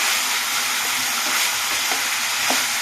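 Potato and fish curry stirred in a pan, a loud continuous sizzle close by with occasional scraping strokes of a spoon.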